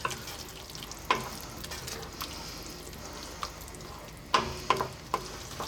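Cream is stirred into a simmering pan of mattar paneer, a cheese and peas curry, with soft sizzling throughout and a few sharp spoon taps against the pan rim, close and alone without talk.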